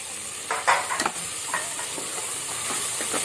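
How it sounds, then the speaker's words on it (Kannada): Mint, coriander leaves, pepper and green chilies fry in a hot pan for mutton masala, a steady close sizzle with a few louder crackling bursts and stirring near the start. "ಈಗ ಇದು ಪುದೀನ ಮತ್ತು ಕೊತ್ತಂಬರಿ ಸೊಪ್ಪು ಮತ್ತು ಇದು ಮೆಣಸು, ಹಸಿಮೆಣಸು ಹಾಕಿ ಫ್ರೈ ಮಾಡಬೇಕು"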